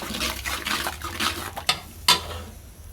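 Spices being stirred and mixed in a cooking pot for a hotel-style chickpea curry, with a spoon scraping and swishing through the thick paste, ending in a couple of sharp metal clinks against the pot.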